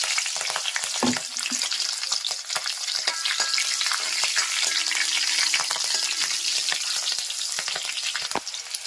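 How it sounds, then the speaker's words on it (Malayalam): Mustard seeds spluttering in hot coconut oil with green chilies for a Kerala taro curry: a steady, dense sizzle broken by sharp crackling pops throughout, with no voices. "നമ്മൾ കടുക് പൊട്ടിക്കാനൊക്കെ ഇടുകയാണ്"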